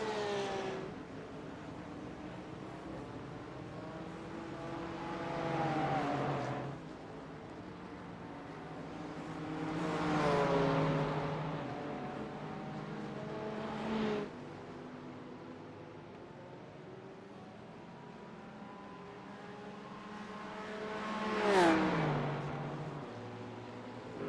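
GT4 race cars racing around the Charlotte Roval, several passing one after another with engine notes swelling and falling as each goes by at a distance, no talking heard.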